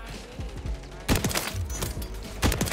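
Sniper rifle shots and rapid gunfire in the video game Modern Warfare 3, several sharp loud reports at irregular intervals with a steady game background and brief voice sounds.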